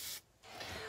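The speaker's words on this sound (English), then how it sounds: "This is the Hot Sexy Hair Protect Me. You just spray a little bit." Hair protectant spray, Hot Sexy Hair Protect Me, is misted in two short hissing bursts, the first brief and the second longer and steady, close to the microphone.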